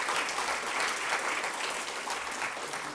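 Sustained applause from an audience at a panel discussion on Ukraine, a dense, steady wash of many hands clapping at even loudness throughout, with no voices over it.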